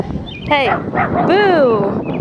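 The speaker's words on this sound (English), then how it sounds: "She wanted to bark at the neighbors." A dog at a campsite with a 16-foot Scamp camper trailer yips and whines in a few rising and falling cries, with a person calling out over it.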